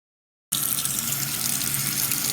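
Tap water runs steadily into a sink while fish is washed before frying, starting abruptly after a short silence and continuing as a loud, even hiss.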